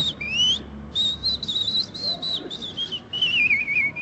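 A person whistles an imitation of a robin's song: a run of short, high, warbling phrases with brief gaps between them, loud and close over faint room noise.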